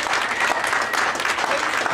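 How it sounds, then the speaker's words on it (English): An audience applauds after a kids' band performance, a continuous burst of clapping from a crowd, close and fairly loud for the whole moment. "Big round of applause, guys."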